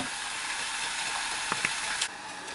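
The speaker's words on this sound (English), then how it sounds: "Then I'll cook the chicken for 5 to 7 minutes" Chicken cooks in a pan, giving a steady, close frying hiss with a few small clicks and knocks near the end, and no voices.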